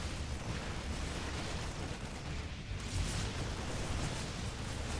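Baneling explosions in StarCraft 2 during a Zerg versus Terran match against Marines and Marauders, a continuous roaring wash of bursts and blasts with no distinct individual pops.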